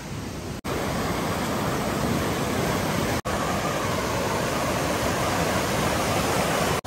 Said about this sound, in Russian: Ручьи пронизывают территорию этого места отдыха.